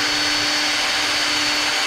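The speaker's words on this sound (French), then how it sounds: "Allez, je cherche la perceuse." A power drill bores into a rubber hose, a steady high whine with a constant hum, close and alone for a couple of seconds.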